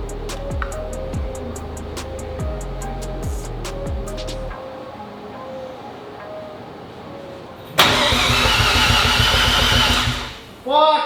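A Mazda RX7 engine cranks over with rhythmic starter chugs, pauses, then cranks again in a burst of louder rapid churning that sounds close up, and a voice speaks during part of it.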